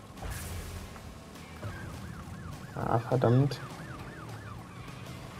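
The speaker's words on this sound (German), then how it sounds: "die Polizeiautos." Police car sirens in the video game Crash Bandicoot N. Sane Trilogy, a wailing, repeating siren at moderate volume, briefly masked by a loud crash-like burst in the middle, with a voice speaking briefly.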